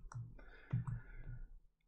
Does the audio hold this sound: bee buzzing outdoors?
no